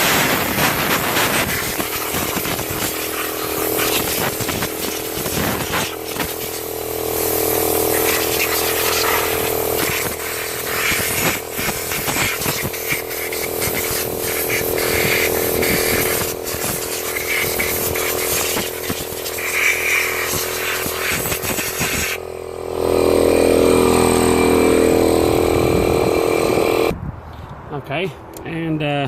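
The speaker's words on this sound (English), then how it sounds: "I'm sorry for the loud noise with the compressor." An air compressor nozzle blasts out the glow plug holes of a Golf MK7 1.6 TDI engine, a loud, sustained, rattling hiss that runs almost the whole time and changes character near the end.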